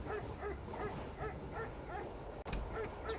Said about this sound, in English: You can hear him barking. He's in that little pen you found